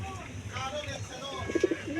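A pigeon coos softly a few times near the end, over a low background hum and faint talking.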